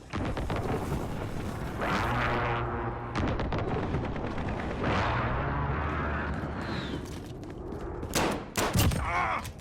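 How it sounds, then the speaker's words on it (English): A burst of heavy explosions and rapid gunfire from a Call of Duty multiplayer match, with a precision airstrike landing, loud and dense with repeated booming impacts and rattling shots layered throughout. "Friendly precision airstrike on the way."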